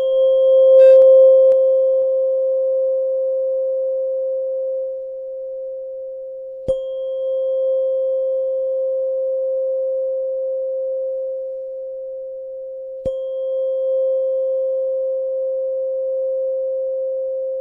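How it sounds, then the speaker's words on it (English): A 528 hertz tuning fork rings with a steady, pure sustained tone, struck again twice with sharp taps that briefly renew the ringing, which carries on evenly throughout. "it's a tuning fork. But it was the only way to get the accurate 528 hertz"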